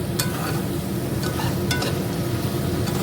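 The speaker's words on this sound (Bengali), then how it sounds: "একটু নাড়াচাড়া করে গরম জল দিয়ে দেবো" Potatoes frying in a pan are stirred, with a steady hiss of oil and occasional scraping of the utensil against the pan, close and continuous.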